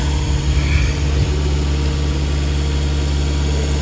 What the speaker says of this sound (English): when I crank the engine